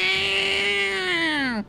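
A voice imitates a cat, drawing out a single loud, close meow that slides downward at the end, over a video game.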